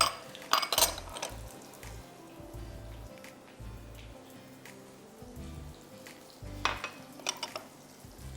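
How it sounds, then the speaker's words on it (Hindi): Onions frying in a pan for green masala biryani: a soft, steady sizzle and crackle, broken by a few louder bursts of stirring and scraping near the start and again toward the end, with no voices. "खूब अच्छी तरह इसको फ्राई कीजिए।"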